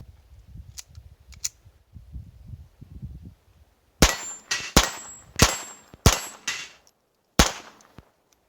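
Gunshots from Remington Thunderbolt .22 LR ammunition, six sharp cracks in two groups, close and loud with short ringing tails, after quieter handling noises.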